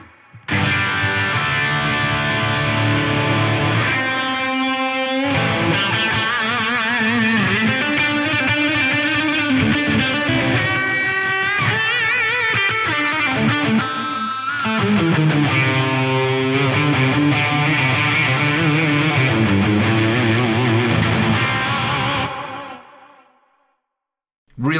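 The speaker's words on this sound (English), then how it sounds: "Really does have this nice diffuse delay thing about it" Sustained distorted tones are played through a diffuse multi-tap tape echo delay set to about 500 ms decay, with smeared overlapping repeats filling the sound before trailing off into a fading tail.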